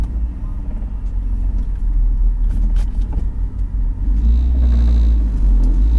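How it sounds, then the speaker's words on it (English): BMW E46 with Revshift engine and transmission mounts pulling away, heard from inside as a loud, steady low engine rumble and chassis vibration that thickens slightly after a few seconds. "You can definitely hear more engine vibrations through the chassis."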